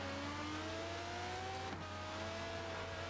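Ferrari race car engine from a GT racing game at Catalunya, a steady high rising whine that shifts pitch as it holds, loud and continuous with no talk.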